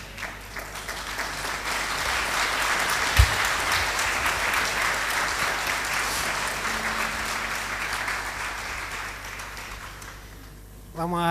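A church congregation applauding during a sermon, a broad sustained wash of many hands clapping that holds for several seconds, then thins out as a voice comes in at the very end.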